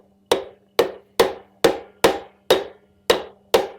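Eight sharp, ringing hammer blows on a GM 12-bolt axle in a steady rhythm, each strike bright and close with a short decay and a faint hum underneath.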